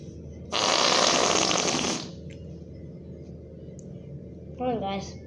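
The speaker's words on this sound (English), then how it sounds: "Listen to a fart sound." A single loud, buzzing fart sound lasting about a second and a half, close and alone, followed by a short squeaky vocal noise.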